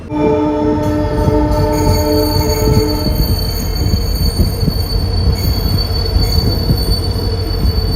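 An LHB passenger train on the Thenmala hill route rolls past close by, a loud continuous rumble of wheels and carriages with steady tonal whine and wheel squeal throughout, no voices.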